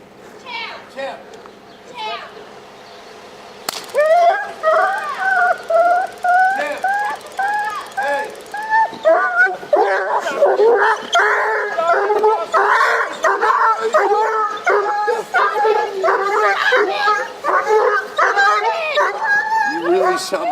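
A German Shepherd barks and whimpers in a long, loud, close run of yelping barks and whines, starting after a quieter opening and building to a dense stretch, with people talking over it.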